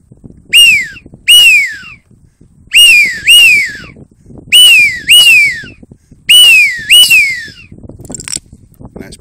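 A wildfowling whistle call imitates widgeon, giving loud, close, sharp descending whistles in quick pairs, repeated in three bursts with brief pauses between them.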